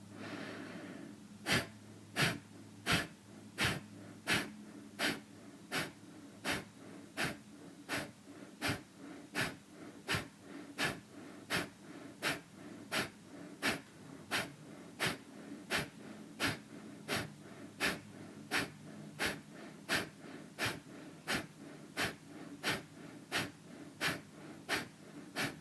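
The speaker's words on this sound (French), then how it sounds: "Prenez une grande inspiration par le nez. Une grande expire, toujours par le nez." Forceful rhythmic nasal breathing during a kriya pranayama purification practice, heard as a long steady train of sharp, evenly spaced exhalation bursts, about one per second, close and clear over a quiet background.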